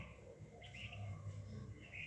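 A cockatoo calling at Alipore Zoo in Kolkata, a few faint short chirping calls heard at a distance over a low background hum.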